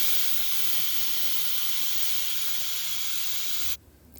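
A loud, steady hiss of steam jets out of a pressure cooker whistle continuously for several seconds, then abruptly cuts off.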